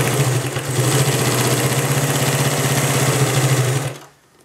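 A 1951 Pfaff 130 sewing machine runs a straight stitch through denim, a loud, fast, even clatter with a steady motor hum that stops abruptly near the end.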